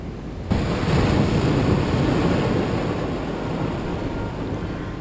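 Ocean waves washing onto a beach at Geraldton, a loud steady roar of surf mixed with wind noise on the microphone, continuous after a brief quieter start with no voices.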